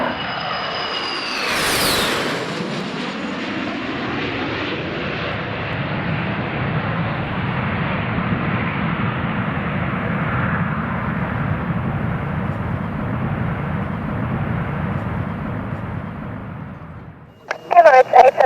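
An Emirates Airbus A380 jet airliner takes off, a loud sustained roar that swells early, holds steady for about seventeen seconds, then cuts off; faint voices are heard under the engines.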